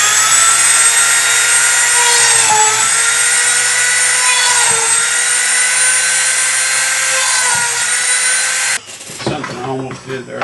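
A power drill bores through a leather pancake holster with a loud, steady high-pitched whine for about nine seconds, then cuts off and leaves quieter handling noises.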